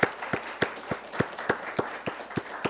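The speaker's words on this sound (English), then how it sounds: "Let's give them a round of applause." Slow, evenly spaced claps from a small group at a school quiz competition between Fort Myers High School and Mariner, about ten distinct claps in a steady rhythm at moderate volume.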